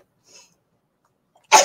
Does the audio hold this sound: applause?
no